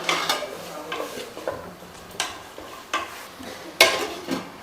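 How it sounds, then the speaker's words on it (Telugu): A spoon stirs dal with tomatoes in a cooking pan, giving a series of soft scraping strokes and light clinks at an irregular pace, close and fairly quiet, with no talking. "వేసుకొని మొత్తం కలిగించుకోవాలి మంచిగా"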